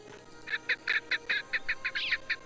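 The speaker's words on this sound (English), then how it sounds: "the correct bird sound, which is, in fact, a female wood partridge call." A female wood partridge call in the Sherlock Holmes Nemesis video game: a quick series of about a dozen short, nasal, honking chirps in a steady rhythm, fairly close and clear.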